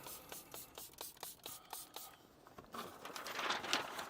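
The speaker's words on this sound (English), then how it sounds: "I'm gonna spray it on again." Liquid misted from a spray bottle while a car screen protector is fitted: a series of short, crisp hissing bursts at a steady pace, then a louder, denser stretch of spraying and rubbing near the end.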